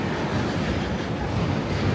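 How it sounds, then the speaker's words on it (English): A long freight train hauling LPG fuel tankers rolls past in a dense, continuous low rumble with clattering wheels, steady and fairly close, with no voices over it. "Such a long train, this one. This is carrying fuel here."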